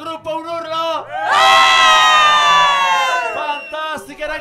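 A group of girls outdoors at a convent shouts and cheers together, a loud sustained collective yell that swells, holds for a couple of seconds, then breaks into scattered excited voices.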